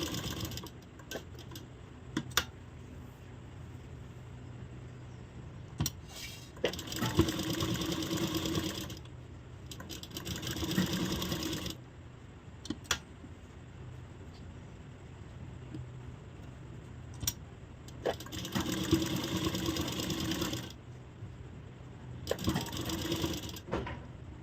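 A sewing machine stitches a blouse in long, steady runs of fast mechanical whirring, separated by quiet pauses and a few sharp clicks, close and fairly loud with no talking.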